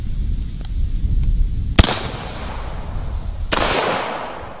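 Two sharp, loud 12 gauge shotgun blasts from a Zeus over-under, firing Clay Buster loads with a standard wad and one ounce of shot through a full choke at 25 feet, each report followed by a decaying ring over steady outdoor background noise.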